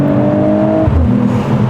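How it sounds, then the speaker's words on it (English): A Mercedes-AMG CLE53 engine holds a steady, loud rev in launch control, then the tone drops and shifts partway through. There is no talk over the engine. "put your foot on the brake and then floor the accelerator. Then it makes a little noise."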